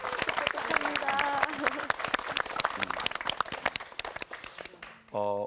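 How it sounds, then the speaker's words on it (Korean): An audience at a pastor's church lecture claps hands in a dense burst of applause that thins out over several seconds. A voice speaks near the end. "여러분 다 우리 손뼉으로 다 축복하세요"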